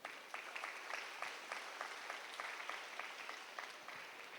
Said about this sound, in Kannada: ಒಂದು ಜೋರು ಚಪ್ಪಾಳೆ ತಟ್ಟಿ